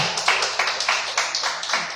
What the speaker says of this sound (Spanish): ¿Cuánto le damos un fuerte aplauso?